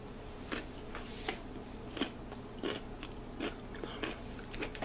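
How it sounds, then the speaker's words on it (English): Repeated crunchy bites and chewing of a fermented carrot, slightly crunchy, sharp cracks every half second or so, close up with no talking. "Slightly crunchy, not as crunchy as a fresh carrot."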